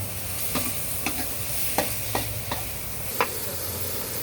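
Shrimp and chive flowers sizzle in a pan while a utensil scrapes and stirs them every half second or so, each stroke making a sharp tap over the constant frying hiss.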